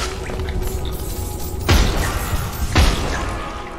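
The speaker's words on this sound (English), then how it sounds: "Yeah, I dodged the explosions." Explosions in the video game Hollow Knight: two loud booming blasts with a low thud, about a second apart, over a steady game ambience.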